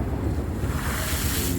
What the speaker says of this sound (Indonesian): Kapal kayu menghadang gelombang.